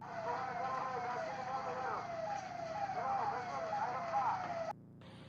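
A fire engine siren wails with steady rising and falling tones at a fire in an under-construction Amara Raja battery factory near Shamshabad airport. It is loud and continuous, over a rumbling background, and cuts off abruptly near the end.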